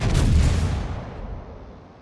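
A Gneisenau battleship's main guns fire a salvo of shells over an island in World of Warships, giving a loud, deep booming blast that rolls off into a long, fading rumble with no voices over it.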